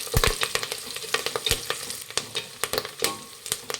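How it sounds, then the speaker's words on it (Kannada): Onions and curry leaves frying in oil, a loud, busy crackle with dense popping and spatter bursts throughout, close up and with no voices. "ಈರುಳ್ಳಿ ಇನ್ನೊಂದು ಸ್ವಲ್ಪ ಫ್ರೈ ಆಗಬೇಕು."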